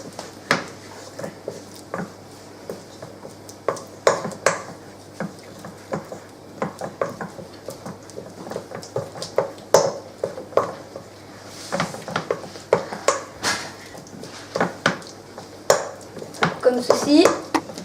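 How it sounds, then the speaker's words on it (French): A wooden spoon works butter in a bowl, making many soft scraping and tapping knocks in an irregular rhythm, with occasional clinks against the bowl. A voice talks over the sounds throughout. "Puis, malaxez-le avec une cuillère en bois."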